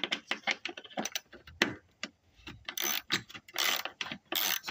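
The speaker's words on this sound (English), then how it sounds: "We got a 5/16 socket. Bust these here loose." A ratchet with a 5/16 socket works bolts loose on a Chevy S10, giving rapid clicking bursts in irregular clusters with short pauses, close and fairly crisp.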